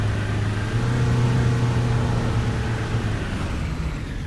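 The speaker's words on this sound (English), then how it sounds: "I just wish the engine wasn't sounding like it was going to die on me all the time" Coach bus engine in the Fernbus Simulator driving game runs with a steady, droning mid-pitched hum and slight rev fluctuation, loud and continuous with no talking.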